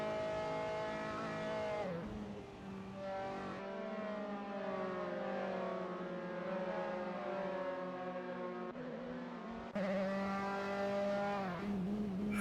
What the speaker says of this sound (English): You could hear the cars whizzing by as they come into Beckett's